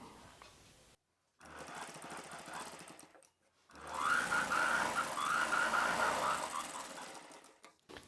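A sewing machine stitches the lining of a silk saree blouse with a fast rattling whir. It runs in bursts separated by short pauses and is loud and close.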